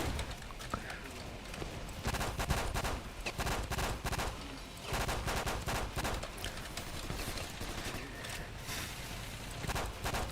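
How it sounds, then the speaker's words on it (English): Shotgun fire in Ravenfield, repeated booming blasts amid dense battlefield gunfire and chaotic game noise throughout. "not a whole lot of range on this shotgun"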